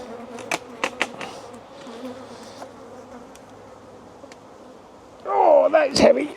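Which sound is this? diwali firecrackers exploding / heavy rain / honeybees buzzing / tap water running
honeybees buzzing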